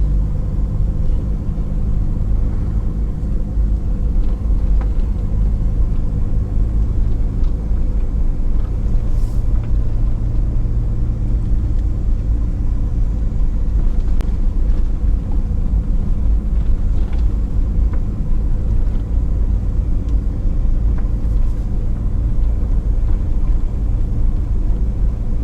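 A car drives a bumpy road under reconstruction in St. Elizabeth, Jamaica, with a constant loud low rumble and faint knocks and rattles from the rough surface.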